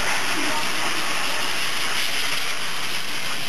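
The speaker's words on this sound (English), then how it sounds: "And now there's a blow dryer with a speed nozzle." A blow dryer fitted with a speed nozzle runs steadily as it dries a dog, giving a continuous broad rushing hiss of air that stays close and loud for the whole stretch with no pauses.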